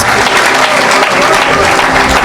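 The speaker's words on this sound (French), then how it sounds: "Acclamez pour Jésus." Loud, dense applause from a church congregation clapping for Jesus, sustained without a break across the whole moment.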